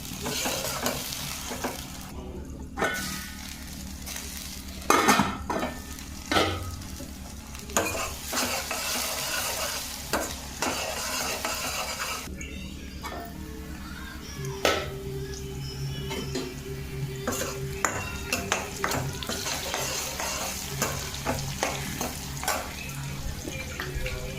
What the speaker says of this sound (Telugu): ఆనియన్స్ ఫ్రై అయిన తర్వాత టమాటాలు కూడా యాడ్ చేసుకోండి. తిప్పుకోవాలి ఒకసారి.